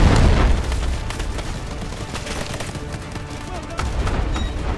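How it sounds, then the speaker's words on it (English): Incoming artillery shells burst in the shooter game Delta Force Hawk Ops, with heavy booms and dense gunfire-like crackle rolling continuously, loud and close, over a noisy battlefield. "Incoming artillery."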